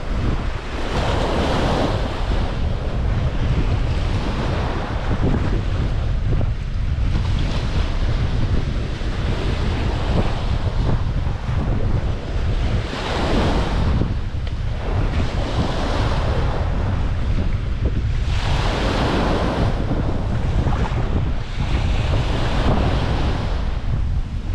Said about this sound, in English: You're just getting a very slight buffering of wind as well.